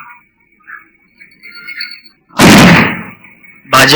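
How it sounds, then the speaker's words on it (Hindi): Firecrackers set off before an election win at a BJP meeting, two loud sharp bursts cracking out one after another, the first a longer rattling crackle, over faint background sounds. "जीतने के पहले पटाखे हैं।"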